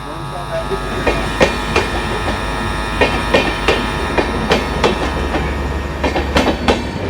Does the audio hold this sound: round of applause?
no